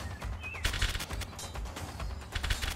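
Gunfire in the Animal Revolt Battle Simulator video game, loud rapid bursts of shots, like massed or automatic fire, repeating in quick clusters throughout.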